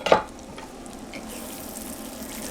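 Bacon sizzles softly in a pan for cooking stuffed mushrooms, opening with a brief clatter and then settling into a steady, faint hiss, with no talking.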